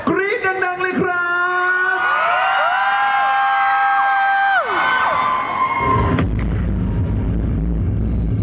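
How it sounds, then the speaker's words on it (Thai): A fan crowd at a Thai celebrity event with actors Pope Thanavat and Bella Campen lets out loud, sustained high-pitched screams and cheers. The rising and falling shrieks hold for several seconds, then give way to a rougher, lower crowd roar. "ขอเสียงปรบมือและกรี๊ดดังๆเลยครับ"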